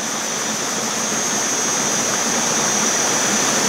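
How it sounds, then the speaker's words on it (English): Water is back-flushed through a Platypus GravityWorks 2.0 L gravity filter into the other reservoir bag, producing a loud, steady, close hiss of flow with no break and no voices. "see water flows back through the filter into the other bag again"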